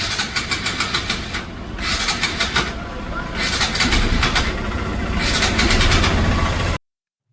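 A Bajaj RS200 motorcycle engine with a fault cranks with rapid rhythmic pulses, catches, and runs roughly for a few seconds before cutting out abruptly into silence. The engine is close and loud.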